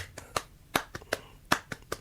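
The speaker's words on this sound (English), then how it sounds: "a clapping rhythm that goes like" Hands clap a syncopated flamenco-style rhythm: sharp, close claps in an uneven pattern of about ten strikes over two seconds, standing alone without other sounds.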